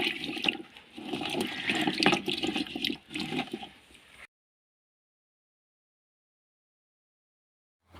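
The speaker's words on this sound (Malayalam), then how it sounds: "തൊലി കളഞ്ഞ ശേഷം നന്നായി വെള്ളത്തിലിട്ട് കഴുകി വൃത്തിയാക്കി എടുക്കണം." Peeled arrowroot is washed in water, giving a close, splashy, rushing water sound for about four seconds that then cuts to silence.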